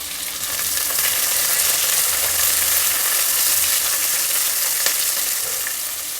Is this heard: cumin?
yes